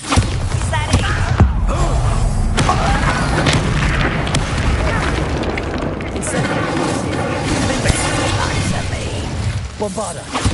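Bombarda blasting spell explosion in Hogwarts Legacy, a loud booming roar that rumbles on throughout amid game effects, with a voice talking over it.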